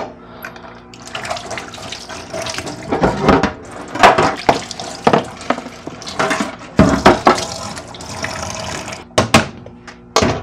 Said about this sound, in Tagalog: Hugasan natin konti.